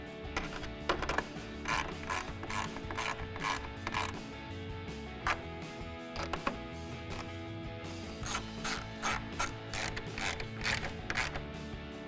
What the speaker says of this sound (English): we'll go ahead and tighten them down with our 10mm socket